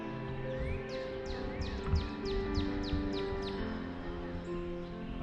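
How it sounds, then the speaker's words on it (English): Birds chirp and tweet in a repeated series of quick descending calls along a walking trail, moderately close over a steady outdoor background hum. "You can hear the birds singing."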